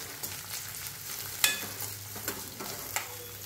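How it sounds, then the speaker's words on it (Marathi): Curry leaves with crushed ginger and garlic frying in a pan for dal, a steady close sizzle with a few sharp pops and spatters over a low hiss, no voices. "धुतलेला कढीपत्ता घालायचा आहे आणि व्यवस्थित असा गुलाबी होईपर्यंत परतून घ्यायचा आहे।"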